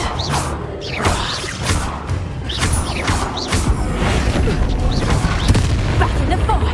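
A Confringo fire spell exploding in Hogwarts Legacy inside Fastidio Dungeon, a dense run of booming bursts and crashing impacts over several seconds amid combat noise, loud and continuous.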